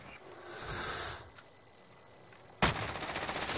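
A sudden burst of sniper gunfire in Call of Duty Modern Warfare crashes in loud after a quiet stretch of faint game ambience and lingers as a rattling, echoing tail.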